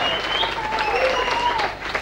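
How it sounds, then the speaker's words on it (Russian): A short burst of steady audience applause for contestant number two at a competition, dense clapping with some whistling and a faint voice or two in the crowd. "Аплодисменты для второго номера."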